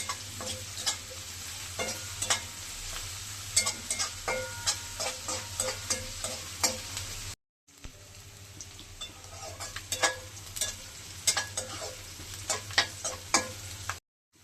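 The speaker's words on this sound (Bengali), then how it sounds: "পেঁয়াজটা আমি একটু ভাজিয়ে লম। এই যে ভালো করে ভাজতে লাগছি।" Onions frying in oil in a pan, with a soft sizzle under frequent rhythmic scrapes and taps of a spatula against the metal, a brief silent gap midway, no voices.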